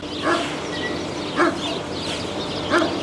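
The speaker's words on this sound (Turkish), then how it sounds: "Oha havlayana bak." A dog barks three times at even intervals, a short yip-like woof each time, faint and distant over a steady broad hiss of road and traffic noise, heard from inside a truck cab in a city.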